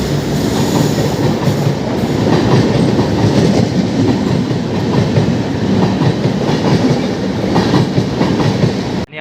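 Mandovi Express running through the long Kharbude tunnel on the Konkan Railway, a loud, enclosed rumble of wheels and carriages with steady rattling and faint squeals, unbroken until it cuts off abruptly at the end.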